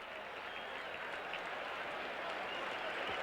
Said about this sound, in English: Packer defense hears the applause at County Stadium.